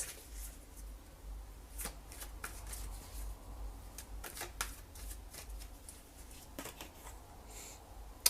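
Tarot cards are shuffled and flicked out one after another, giving quiet, close papery riffles and sharp snaps at an uneven rhythm with no talking.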